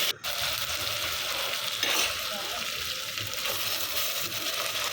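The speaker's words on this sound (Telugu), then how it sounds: "ఇక్కడ అల్లం వెల్లుల్లి కొత్తిమీర పేస్ట్ వేసుకోండి ఒక రెండు టీ స్పూన్లు" Ginger, garlic and coriander paste sizzling in a pan for mutton curry, a loud, close, continuous hissing fry that opens with a brief clatter and carries on steadily without speech.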